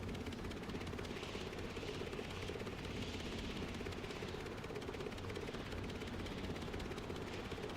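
A homemade remote-controlled aircraft on a test flight gives a steady, even rotor whir with a faint mechanical buzz. It runs continuously and fairly quietly, with no talking.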